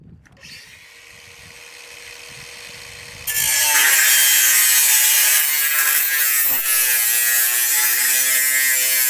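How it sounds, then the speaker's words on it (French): Angle grinder shortening the connection channel of an OekoTube-Outside mounting. A low mechanical whirr runs for about three seconds, then a loud, steady, high grinding whine as the disc cuts through to the end. "À l'aide d'une meuleuse, le canal de raccordement est raccourci."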